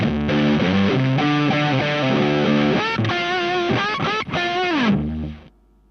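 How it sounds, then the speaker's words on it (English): Harsh, gritty digital bit crusher distortion from an IK Multimedia X-Drive on a loud sustained synth line, crunchy and buzzing throughout before cutting off abruptly near the end. "bit crusher, and then you've got all that stuff as well"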